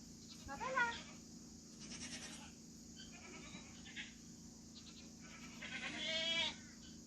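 A dairy goat bleats several times at close range, a few loud wavering calls spaced out over quiet background, with no talk.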